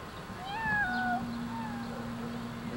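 A domestic cat meows in a renovated family house, a few drawn-out, wavering cries close by over a steady low hum and faint room noise.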